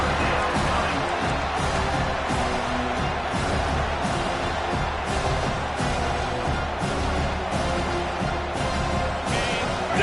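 A stadium crowd roars steadily during a third-down defensive stand in an NCAA 25 or Madden football game, a constant loud wall of cheering with no pauses.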